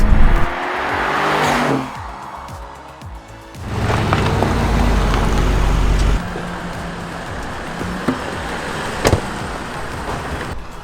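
A loud Aston Martin Vantage engine roars and revs in bursts, dropping off briefly before surging again, with a sharp crackle near the end.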